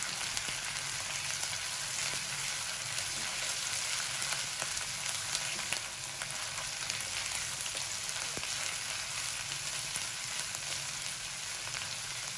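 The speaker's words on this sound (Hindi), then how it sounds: "1 मिनट के लिए हम इसे भूनेंगे अदरक लहसुन के साथ।" Steady, dense sizzling of onions frying in hot oil with ginger and garlic continues throughout, with occasional small pops and crackles, close up and with no talking.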